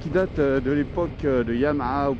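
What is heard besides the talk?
No distinct noise like a dog, phone or traffic.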